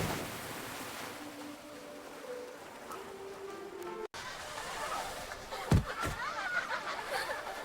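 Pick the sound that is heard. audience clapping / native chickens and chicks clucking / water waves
water waves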